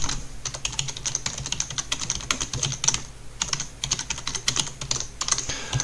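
Text being typed on a computer keyboard: rapid, uneven bursts of close key clicks with short pauses between runs, and nothing else audible.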